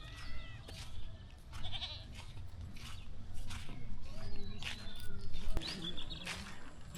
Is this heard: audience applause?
no